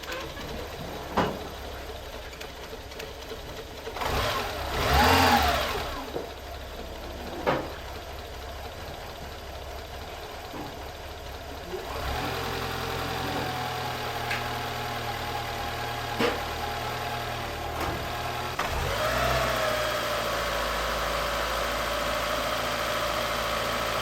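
A Citroën C15 engine idles steadily for a long stretch while warming up, its low hum rising slightly partway through, with a few clicks and faint knocks early on.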